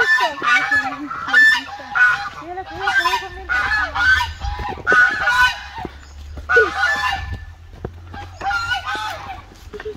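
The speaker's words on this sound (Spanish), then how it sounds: "¿Viste los gansos?" Geese honk loudly and repeatedly nearby in overlapping bursts, a noisy flock calling back and forth with barely a pause.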